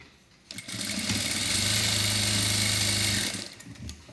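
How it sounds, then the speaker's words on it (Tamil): A sewing machine runs a single continuous burst of about three seconds, double-stitching the shoulders of a high-neck blouse, with a loud close mechanical whir and rapid needle chatter starting and stopping abruptly. "2 ஷோல்டரையுமே டபுள் ஸ்டிச் போட்டு எடுத்துக்கிறேன்"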